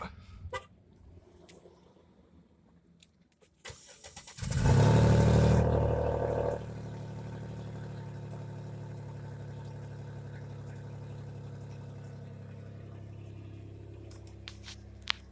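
A car engine with its mufflers chopped off cold-starts with a loud, raw roar after a brief crank, then settles into a steady, rough idle that fills the rest of the span.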